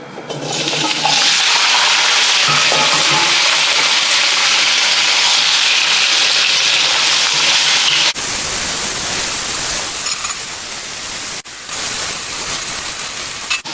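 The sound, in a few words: frying carrots and potatoes in pan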